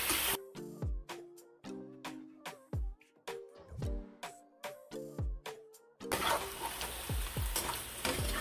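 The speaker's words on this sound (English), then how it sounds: "now we're going to mix this and make sure that that sugar coating covers all of the pieces of oxtail in here" Sugar-coated oxtail pieces stirred in a hot pot, with repeated scraping and clunking strokes of the spoon over a soft sizzle, the frying surging louder and hissier near the end.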